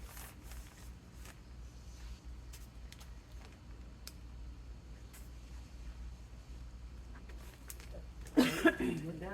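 One short, close cough from breathing mushroom compost dust during potato planting breaks out near the end, after a long stretch of quiet outdoor background.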